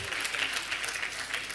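Sustained audience applause at a comedy show, a dense even wash of many hands clapping throughout with no break, fairly distant and moderately loud.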